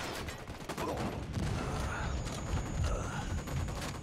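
Rapid gunfire in the Ghost Recon game crackles in dense bursts throughout, incoming shots from many directions blending into a continuous volley at moderate, fairly close loudness.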